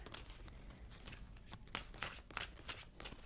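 Quiet, close riffle-and-slide shuffling of a tarot deck, papery card flicks repeating in short bursts with no talking.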